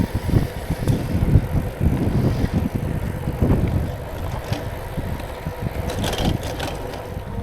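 Folding bicycle ridden fast on a long ride, with steady rolling tire and drivetrain noise mixed with wind buffeting the microphone, continuous and close, with no talking.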